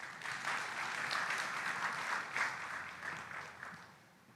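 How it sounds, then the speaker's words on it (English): An audience at a business forum and exhibition in Nairobi, Kenya, gives a round of applause: sustained, dense clapping from a large crowd, even and fairly distant, tapering off slightly at the end. "let's give him a round of applause,"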